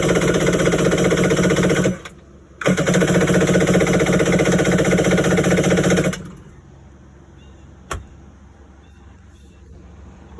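A cheap jet ski engine cranks and tries to fire under throttle, a loud rough rattling drone that cuts out briefly, resumes, then drops away to a quieter background with a single sharp knock.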